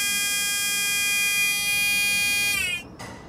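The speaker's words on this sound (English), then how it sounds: "Wait for the buzzer." A Thule Omnistep step relay on a Ford Transit sounds a steady electronic buzzer for about two and a half seconds, then cuts off abruptly.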